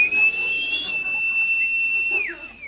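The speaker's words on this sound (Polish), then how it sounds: "Gwizdaliśmy, gwizdżemy, będziemy gwizdać." Whistling from performers in a Polish cabaret sketch: one sustained, steady, high whistled tone held for about two seconds and then bent downward at the end. It is close and clear, with no talking.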